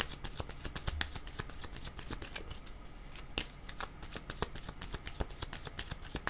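Tarot cards being shuffled by hand, a steady run of crisp riffling snaps and soft slides, close and fairly quiet, with no talking.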